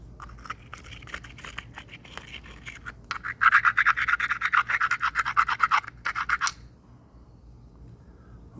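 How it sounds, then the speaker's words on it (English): A limestone hammerstone grinds the dorsal edge of a stone spall in a rapid run of rough rasping scrapes, close and loud, after softer scratching, then stops. "Little dorsal grinding won't hurt."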